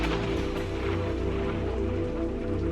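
Steady rain pours down at a busy bus terminal with traffic, a dense, continuous hiss of falling water with a low rumble underneath, with no voices.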